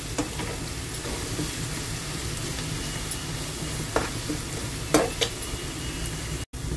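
Onions fry and sizzle steadily in a pan for okra-in-yogurt curry, with a few sharp scrapes and clacks of a stirring spoon against the pan standing out above the constant crackle.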